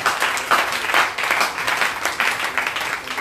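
A church congregation applauding, with steady, dense clapping from many hands that stays loud and continuous throughout, with a few faint voices mixed in.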